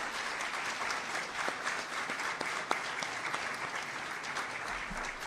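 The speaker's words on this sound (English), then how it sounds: "Let's give him a round of applause for your awesome efforts." Crowd applause at a governor's bill-signing event, sustained and even clapping from a sizable audience, heard from some distance at a moderate level for over five seconds.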